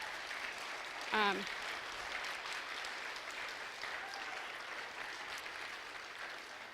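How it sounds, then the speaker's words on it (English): Church congregation applauding the helpers up front at a vacation Bible school service: a soft, even wash of clapping heard from a distance, with a brief shout near the start and faint voices mixed in. "if you guys please one more time can give it a round of applause to everybody who's up here"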